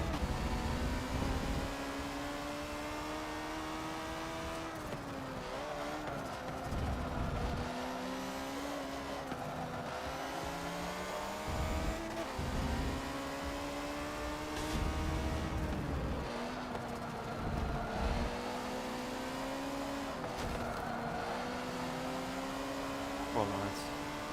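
S class race cars in the video game Forza 7 roar through an online lobby race, engines rising and dropping with repeated gear shifts and occasional tire noise, while a person talks over the action.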